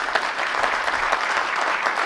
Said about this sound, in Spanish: un aplauso a todos los presentes.